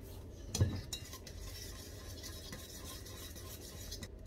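Butter being stirred into banana pancake batter in a bowl, a soft repeated scraping and clinking of utensil against the dish with a brief louder knock near the start, steady and close with no talking.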